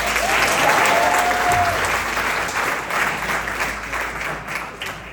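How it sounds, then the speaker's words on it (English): Audience giving a speaker a steady round of applause at a small-business event, dense sustained clapping filling the room for about five seconds without talk. "please give him a round of applause"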